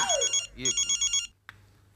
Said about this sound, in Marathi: हे मध्येच आहे फोन येतो.